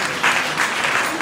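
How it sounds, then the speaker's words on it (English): Wedding guests at a traditional marriage ceremony clap in a brief, loud burst of dense, continuous applause that carries straight through without a pause. "Clap for this."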